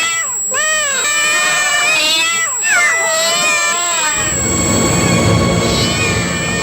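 Several cats meow and yowl repeatedly in loud, wavering cries reacting to a high-pitched tone, close by, followed by a rougher, noisier stretch of sound.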